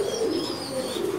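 Kongkot breed pigeons in a breeding loft give steady, soft, low cooing that carries through the whole stretch, with faint higher chirps above and no talk.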